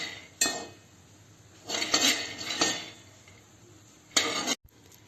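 Peanuts being roasted in a pan, heard as a few sharp bursts of rattling and scraping as a utensil stirs them against the metal, separated by quieter gaps.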